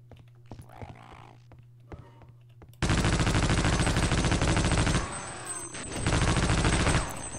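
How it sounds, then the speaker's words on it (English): Automatic machine gun fire in Half-Life: Opposing Force, two sustained loud bursts of rapid shots with a brief lull between them, following a few seconds of quieter game ambience. "Got my actual machine gun."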